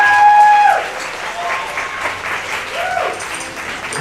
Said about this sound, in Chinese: 我们拍手来祝福他们